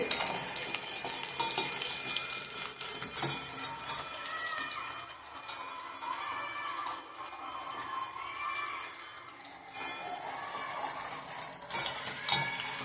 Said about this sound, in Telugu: వెల్లుల్లి కొంచెం వేగిన తర్వాత పప్పు వేద్దామండి.